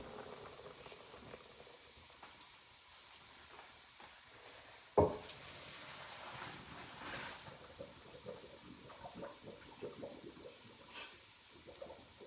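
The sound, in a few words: pouring pasta water into strainer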